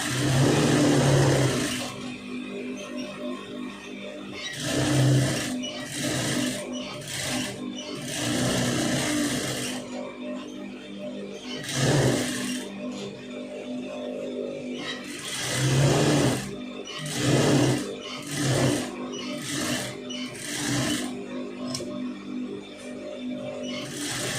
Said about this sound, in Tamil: இதை வந்து சுற்றி கரெக்டாக நீட்டாக ஓட்டிடுங்க.